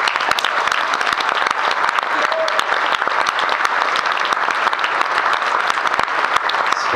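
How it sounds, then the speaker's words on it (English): Wedding reception guests applaud the couple's parents, a dense, sustained clapping from a full crowd that stays loud and even throughout. "I'd like to have a big round of applause for Mike and Gina's parents"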